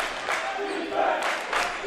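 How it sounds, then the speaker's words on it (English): Exeter home fans at a high school basketball playoff game, a sustained roar of crowd cheering and applause with swelling shouts, mixed with a voice talking over it. "The Exeter fans come alive here, trying to cheer on the home team."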